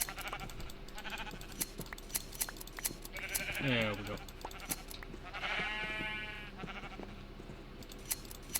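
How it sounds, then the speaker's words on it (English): Two Minecraft sheep bleats, one after the other, during in-game sheep shearing, over a busy game soundtrack with clicks; someone speaks briefly. "I will shear my sheep"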